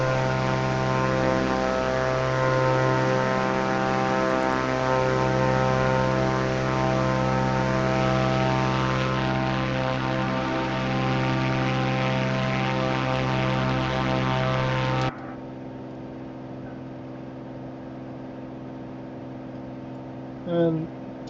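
Propeller airplane engine in a flight simulator game drones steadily with layered harmonic hum, loud and continuous, dropping to a lower, quieter drone partway through, with no talk over it.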